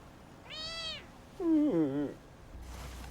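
A kitten gives two high, wavering meows close up, the second louder and more drawn out, against a quiet room with faint background noise.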